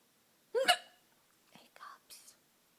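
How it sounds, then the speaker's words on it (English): An adult hiccups once sharply and close, followed by a few softer breathy mouth sounds and faint whisper-like noises in a quiet room. "Hiccups."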